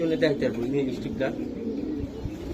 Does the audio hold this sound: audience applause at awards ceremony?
no